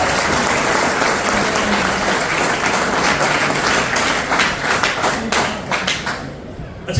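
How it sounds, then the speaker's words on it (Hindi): Loud, dense applause from a large audience fills the whole stretch at a university campus-to-corporate event, steady clapping that thins slightly near the end. "अभी हमने देखा कि बहुत सारी तालियां बजी"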